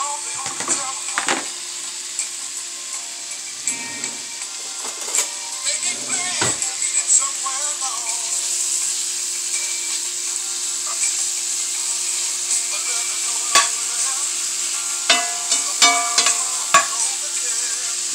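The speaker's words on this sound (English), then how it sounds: "is begin to fry up our bacon" Chopped bacon slices frying in a skillet give a steady close sizzle throughout, broken by scraping stirs of a utensil against the pan, with faint speech at moments.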